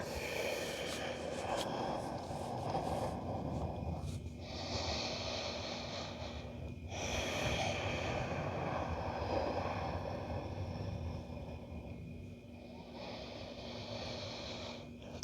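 Deep, slow breathing during a hatha vinyasa yoga flow, with long airy inhales and exhales repeating in a steady rhythm, close to the microphone and alone without talk.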